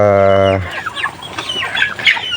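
A native chicken lets out a loud, sustained harmonic cluck up close, then a busy scatter of high, quick chirps and peeps follows near newly hatched eggs, with no talking.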